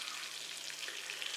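Meat cutlets fry in a kazan, giving a faint, even, continuous sizzle with fine crackling spread throughout, close and steady with no voices.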